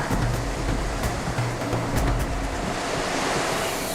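Typhoon Bolaven surf pounding the coastal seawall at Busan's Marine City, a dense, continuous roar of crashing waves with gusty wind noise throughout, loud and close with no talk.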